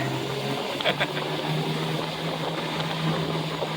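A Jaguar XKE engine drones loudly and steadily at high revs, close by, holding one gear without shifting.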